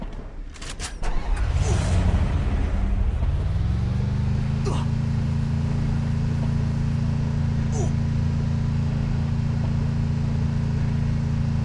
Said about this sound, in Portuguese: Esse carro é muito roubado, ele atravessa a gelo e atropela o cara